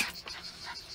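Beagle puppies pant in quick, soft, breathy bursts close by, briefly and without any talk.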